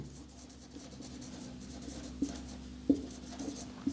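Teacher writes on a classroom board, with chalk scratching and tapping in short strokes and a few sharper knocks, quiet and close over a steady low hum.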